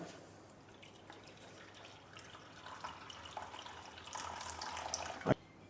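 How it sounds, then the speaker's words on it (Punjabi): Water poured into an electric appliance, a soft steady trickle and splash that builds slightly in loudness, ending with a brief sharp knock. "ਇਹਦੇ ਵਿੱਚ ਪਾਣੀ ਪਾ ਲੈਣਾ ਇਦਾਂ"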